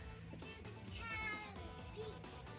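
A cat meows a couple of times, close and fairly clear, over a low background murmur.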